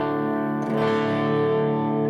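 Electric guitar played through a Boss BF2 flanger pedal set for a traditional flanger tone, a sustained chord swirling with a slow sweeping jet-like shimmer, close and steady for about two seconds with no talk.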